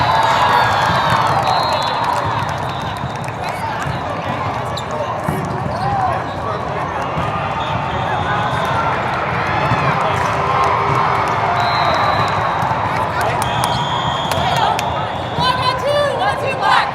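A crowd cheers and whoops at a youth club volleyball qualifier match in a gym, with sustained loud cheering and shouts across the whole stretch and balls bouncing now and then.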